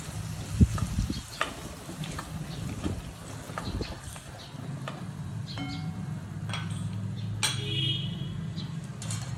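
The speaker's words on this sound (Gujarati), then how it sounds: "ટમેટા એડ કર્યા બાદ બધું બરાબર મિક્સ કરી દઈશું." Finely chopped tomatoes are stirred in a pan for rajma curry, a low steady sizzle with scattered taps and scrapes of a spoon against the metal, fairly quiet and close.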